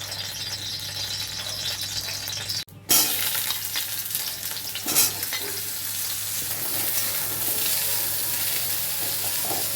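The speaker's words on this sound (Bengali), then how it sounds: "কড়াইতে তেল দিয়ে দিচ্ছি, অল্পই দিলাম, দিয়ে তেলটা গরম হলে পটলগুলো ভেজে নিচ্ছি।" Pointed gourd (potol) frying in a little hot oil in a kadai, a steady close sizzle with a brief rattle and stir partway through, then continuing crackle; no talking.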